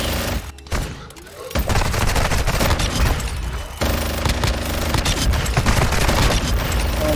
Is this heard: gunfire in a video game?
yes